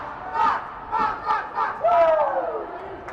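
Hockey crowd at a BMHL finals game chanting and cheering for their Stars, rhythmic rising shouts and a swelling cry, loud and full across the arena.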